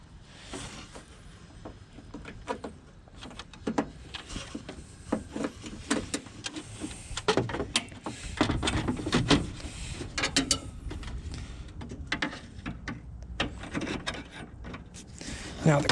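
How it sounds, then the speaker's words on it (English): Small plastic body clips snap and click into place on a 1999 Honda CR-V, with scattered close taps, rattles and handling noise across the whole stretch, rising toward the middle and end, and some speech mixed in. "These clips go on first down here, just little body clips."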